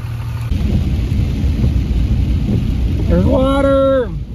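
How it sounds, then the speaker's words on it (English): Hard morning rain pours down in a heavy, steady roar with low rumbling thunder, loud and close throughout, while a brief wavering voice-like tone rises near the end. "this is the hardest rain we've had in probably a year and a half."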